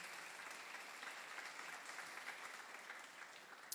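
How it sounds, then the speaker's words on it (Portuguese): Church congregation applauding, a faint, even patter of many hands clapping at a distance, steady throughout with no voices on top. "Dê uma salva de palmas a ele em nome de Jesus."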